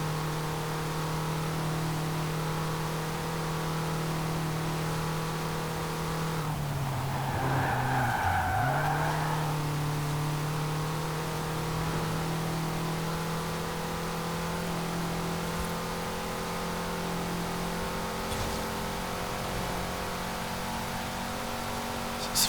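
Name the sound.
1984 Peugeot 205 T16 engine in Forza Horizon 4 video game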